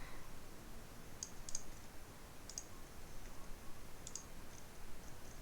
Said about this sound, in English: So just playing around with the arrow keys.